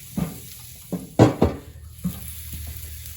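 Steak sizzling on a grill grate, heard as a low sputtering hiss broken by several sharp scrapes and clanks of tongs and metal at close range, with no talking.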